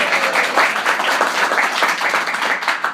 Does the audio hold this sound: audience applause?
yes